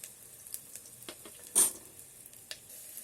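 Onions sizzling and frying inside an electric kettle: a quiet, steady crackle with scattered sharp pops and one louder burst of hiss, no voices.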